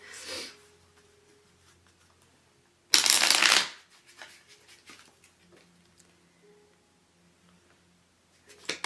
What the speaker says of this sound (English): to just pull a couple more cards about the message of hope and light